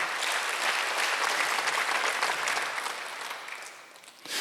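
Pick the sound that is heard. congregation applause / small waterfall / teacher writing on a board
congregation applause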